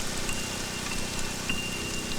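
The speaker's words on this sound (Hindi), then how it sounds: "बाहर इतनी जोर की बारिश हो रही है" Heavy rain falls outdoors in a steady, dense wash of noise that runs unbroken throughout, fairly loud and close, with no voices.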